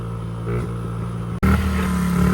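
A cheap pit bike engine while riding, a loud close buzzing motor that drops out for an instant and then returns at higher revs, with no talk.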